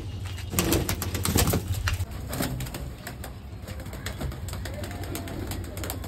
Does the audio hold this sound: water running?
no